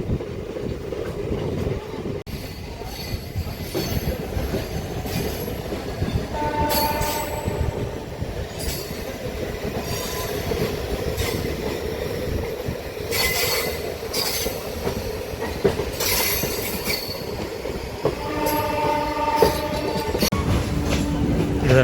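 A MEMU local train on the Kazipet to Chennai route runs steadily, with a constant rumbling roll, wheel clatter and occasional squeals and rail screeches rising over the continuous loud rolling noise.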